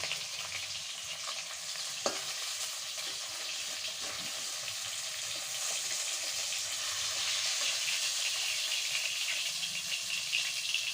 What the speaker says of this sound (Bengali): এখন আমি এই যে মাছ লাল লাল করে ভেজে তুলছি